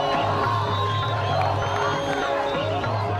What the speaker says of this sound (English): the crowds are shouting and screaming.